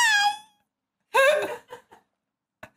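A young child imitates a cat with high, tonal meowing cries: one long wavering call, then a louder call followed by a few short, fainter meow-like bursts, close to the mic.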